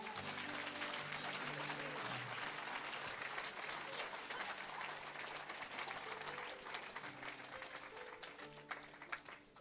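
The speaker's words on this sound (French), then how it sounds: "On acclame Jésus." A church congregation applauds and cheers in praise of Jesus, with sustained, dense clapping from a large crowd that fills the space throughout and tails off slightly at the end.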